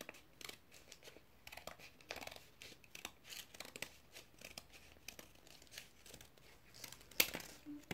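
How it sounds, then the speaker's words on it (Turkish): Scissors snip the ends of folded material while making a ring by hand, with crisp cuts and paper-like crinkling repeating close up, sounding quiet and steady with no talking. "Ondan sonra birazcık makasımızla birazcık şu uçlarını kesiyoruz."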